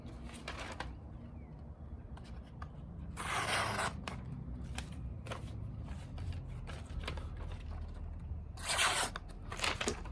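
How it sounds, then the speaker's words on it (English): A Sencut Waxahachie knife slices through paper, giving repeated short rustling, tearing cuts in bursts over a low background rumble, close and moderately loud. "Will it still cut paper?"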